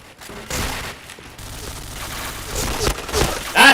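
Rapid gunfire from the online shooter game Point Blank, a dense continuous rattle of shots with sharper bursts toward the end, heard under a player's voice.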